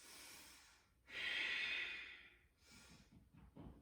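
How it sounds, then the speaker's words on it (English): Deep, slow Ujjayi breaths drawn during a seated yoga twist, each a long, close, airy rush of breath with a soft throaty hiss, three in a row with short pauses and no talking. "Deep Ujjayi breaths"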